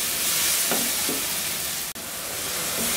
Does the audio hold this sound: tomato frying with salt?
yes